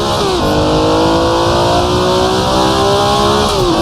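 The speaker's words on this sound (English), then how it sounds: "Over rev for just a second, up to fourth gear though." A vintage race car engine in Assetto Corsa screams loud and flat out, holding a high, steady over-revving whine before its pitch drops briefly at a gear shift.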